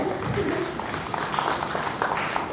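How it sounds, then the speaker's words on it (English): Moderate applause from the audience at an academic postgraduate colloquium in Malaysia, a steady patter of clapping in an indoor hall that continues evenly throughout. "A round of applause."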